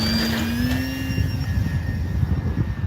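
A Commander MPD RC plane flies in light wind, its engine a steady whine with a falling pitch as it passes, over a rumble of wind noise, with no talk.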